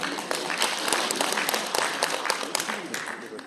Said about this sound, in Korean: 박수로 환영해 주시면 감사하겠습니다